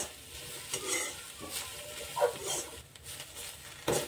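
Whole spices, including black pepper and mace, dry roasting in a pan, with steady scraping and stirring, a faint crackle and occasional louder clinks of the spoon against the pan, close and alone.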